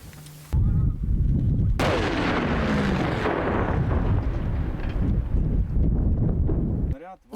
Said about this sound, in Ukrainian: встановлюю сюди детонатор, відходить сапер і приводить його в дію